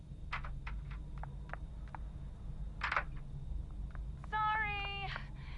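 A cat in Friday the 13th: The Game's Virtual Cabin gives a string of short meows, one louder than the rest, followed by a bright, warbling electronic ring.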